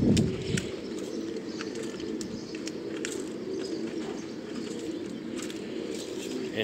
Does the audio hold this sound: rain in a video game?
no